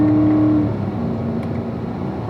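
A race car engine on a track, heard as a loud, close, steady drone that holds a fairly even pitch for a couple of seconds.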